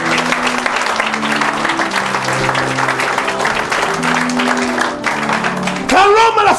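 A church congregation bursts into sustained loud applause and cheering for the Lord, clapping and voices filling the room together, with a brief vocal shout near the end.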